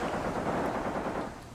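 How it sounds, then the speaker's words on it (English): Anti-tank rifles firing in the Tunisia 1943 tank warfare game, a dense, steady burst of rapid gunfire that holds loud throughout and eases off slightly near the end. "Anti-tank rifles!"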